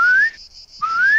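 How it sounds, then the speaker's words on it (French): A person whistles in a backyard garden to call chickens: two bright, rising whistled notes separated by a brief pause, loud and close. "si on siffle comme ça"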